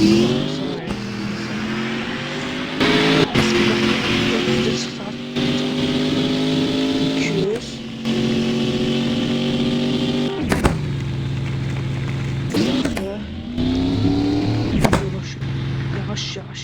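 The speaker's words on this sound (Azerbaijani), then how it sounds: "Bakın neçəyə gedir." A Bugatti races at high speed, its engine a loud sustained roar with rising pitch and several gear-change breaks, heard from inside the car with talk over it.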